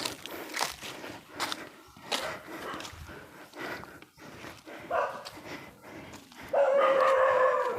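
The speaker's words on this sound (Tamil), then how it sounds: "மறுபடியும் அங்கே நம்மளை நாய் கூப்பிடுது" A dog barks repeatedly from a house in a hillside tribal village, sharp yaps spaced out over several seconds, fairly near, with footsteps and ambient noise.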